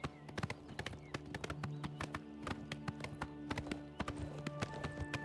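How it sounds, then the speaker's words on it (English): Horse hooves clip-clop steadily at a brisk walking rhythm in the video game Oblivion Remaster, each crisp, close hoof strike standing out over a soft background ambience with no talking. "Clippity clop, clippity clop, clippity clippity clop."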